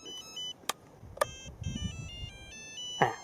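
A UH-1 Huey GPS 450 RC helicopter transmitter gives a warning alarm: repeating electronic melodic beeps, close and clear, with a few sharp clicks between.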